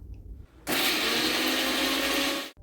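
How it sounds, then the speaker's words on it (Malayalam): A kitchen mixer grinder crushing ginger and garlic runs in a short, loud, steady whirring burst of about two seconds, starting abruptly and then cutting off. "കുറച്ച് ഇഞ്ചിയും വെളുത്തുള്ളിയും കൂടെ മിക്സിയിൽ അങ്ങ് ചതച്ചെടുത്തു."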